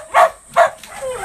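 Two sharp barks from a nine-month-old dual-bloodline golden retriever ring out close and loud, followed by a softer drawn-out whine.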